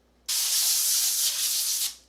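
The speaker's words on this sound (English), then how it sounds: "spraying with avocado oil." Avocado oil sprayed from a spray can over candy being prepared, a single steady close hiss lasting under two seconds that begins abruptly and tapers off at the end, with no talking.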